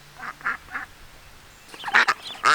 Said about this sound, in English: Mama duck is going back to her babies.